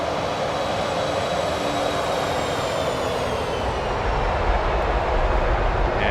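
MD-11 airliner on its takeoff roll in Microsoft Flight Simulator 2024, a steady loud roar of engines with rising whine and continuous rumble, no one speaking.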